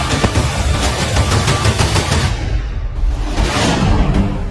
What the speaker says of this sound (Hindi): यूक्रेन में धमाके और बमबारी की आवाजें सुनाई देने लगी